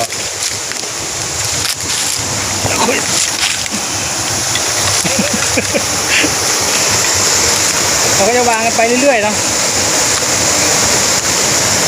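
A waterfall rushes in a cold-season forest as a steady, broadband roar that fills the whole clip, with someone talking over it throughout.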